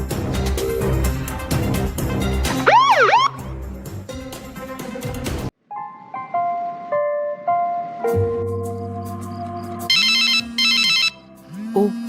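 Telephone ringtone late at night, a melodic electronic tune of repeated chiming notes that plays loud and close, shifts pattern partway through, and keeps ringing with no talk.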